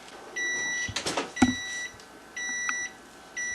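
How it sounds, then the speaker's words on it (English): A kitchen timer beeps while homemade bread bakes, sounding as steady high repeated tones in separate bursts, with a few clatters of kitchen handling between them. "as you can hear, timer's going off."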